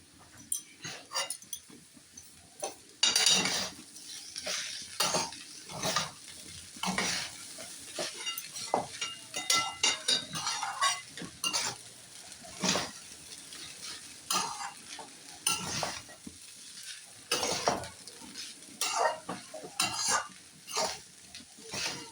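Crushed small cardamom sizzles in a pan for flattened-rice pulao, under a long run of rhythmic spoon strokes scraping and clinking against the metal, close and fairly busy.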